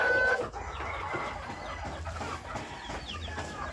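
Two newly hatched turkey chicks peeping, with short faint chirps over a steady rumbling background of farmyard noise, a little distant.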